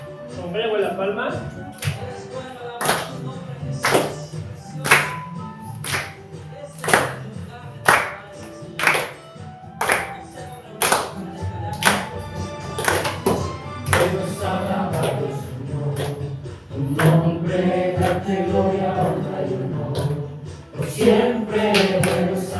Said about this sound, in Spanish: Acompaña con las palmas.